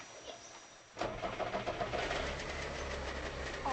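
A car engine in the video game The Long Drive cranks and catches at about one second, then settles into a steady, loud idle rumble that continues to the end.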